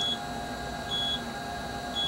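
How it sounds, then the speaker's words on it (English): Steady electronic beeps from a diode laser machine after its trigger is pressed, three short high tones spaced about a second apart over a constant machine hum. "now we push the red trigger button here, and it beeps."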